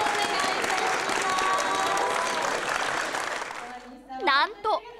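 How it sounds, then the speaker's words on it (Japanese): Audience applause at an award ceremony for prize winners at a new tourist facility in Naruto, loud and dense for about four seconds before cutting off, followed by brief speech. "皆様、大きな拍手をお願いいたします"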